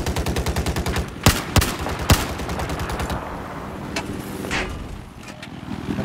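Rapid automatic gunfire in a combat video game, dense bursts of machine-gun shots with several louder sharp cracks standing out, then thinning into scattered distant pops and rumble.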